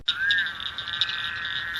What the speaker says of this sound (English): Big bullfrogs.